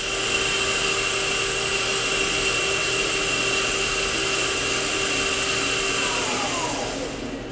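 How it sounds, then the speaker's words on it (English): A KIA SKT-15LMS CNC turning center's main spindle runs at 2500 RPM, giving a steady high whine and machine hum that holds evenly, then winds down near the end. "That's 2500 RPM on the main spindle."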